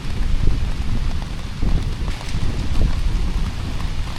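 Steady rain falls outdoors, a dense, even hiss of drops that stays loud for the whole stretch, with no voices.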